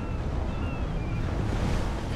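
Steady wind rushes through a Hogwarts Legacy game scene, a constant broad roar like gusts over open water, loud and unbroken for the whole moment with no speech.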